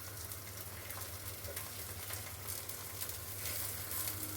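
Food sizzles steadily in a hot pan with one side already browned, a constant close crackling hiss with slight swells and no voices.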